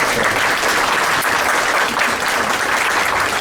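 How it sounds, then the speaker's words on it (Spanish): Audience at a human rights conference in Mexico breaks into strong, sustained applause, a loud continuous wash of many hands clapping with no speech over it. "le damos un fuerte aplauso"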